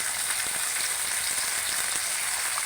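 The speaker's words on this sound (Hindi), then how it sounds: "1 किलो के करीब चिकन है जो मैं ऐड कर रही हूँ।" About a kilo of chicken fries with onions in a pot for biryani, making a constant close hiss with faint crackles and no talk.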